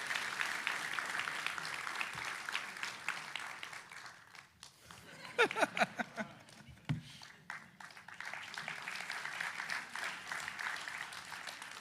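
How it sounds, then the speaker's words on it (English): Applause and clapping from an audience at a Long Beach key-to-the-city ceremony, rising into sustained clapping that fades briefly mid-clip before swelling again, with some talk underneath. "Let's give Rich another big round of applause for."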